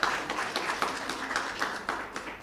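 Audience at a child justice conference clapping, a brief scattering of individual claps, fairly faint and irregular, with no voices.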